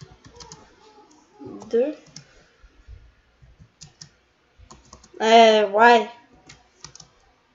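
A name is typed on a computer keyboard in short bursts of quiet clicking keystrokes, with a brief spoken word in between.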